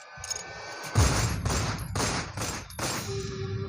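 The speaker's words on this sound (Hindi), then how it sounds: "बॉडीगार्ड के हाथ से गन ली और हवा में 4-5 गोलियां चला दी" A handgun taken from a bodyguard fired into the air in a dramatized Hindi audio story: several sharp, loud reports in quick succession, each ringing out with reverberant tails amid low rumbling.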